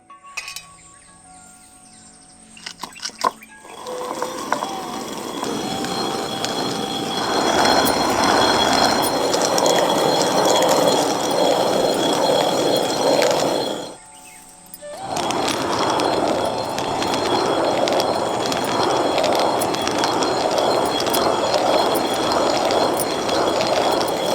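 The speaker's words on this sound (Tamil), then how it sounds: "ராகி இப்ப கல்லுல போட்டு நல்லா அரைக்க ஆரம்பிச்சிடலாம்." Soaked ragi grain being ground on a stone grinder, a steady grinding rumble with mechanical rattle that runs on continuously, pausing briefly midway before resuming.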